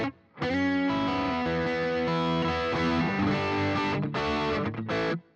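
Electric guitar played through a delay effect, sustained chords ringing with echoing repeats, loud and close, with brief gaps near the end.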